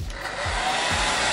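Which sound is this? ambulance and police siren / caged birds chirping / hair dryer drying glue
hair dryer drying glue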